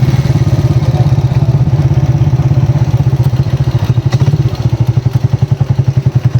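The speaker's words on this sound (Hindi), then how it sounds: "बैरियर पे पहुंच चुके हैं, यहाँ पे बाइक लगाएंगे।" A motorcycle engine chugs close by at low speed as it pulls up to a barrier near a mountain shrine in Kashmir, a loud, steady pulsing idle that turns into clearly spaced thumps near the end.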